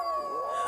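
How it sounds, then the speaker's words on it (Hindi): A dog howling at night in a Hindi story, one drawn-out, wavering howl that rises and falls briefly at close range, with no talking. "आज ये कुत्ते इतना क्यों भौंक रहे बे?"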